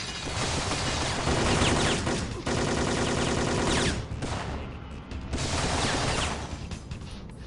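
Dense rapid gunfire from the Syphon Filter video game, a loud sustained barrage of overlapping shots that briefly dips, then resumes with bursts and clattering impacts.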